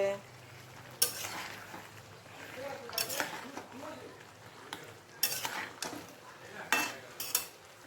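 Meat cooking in a pan is stirred steadily, with a constant sizzle and frying hiss under repeated scrapes and clinks of a metal spoon against the pan.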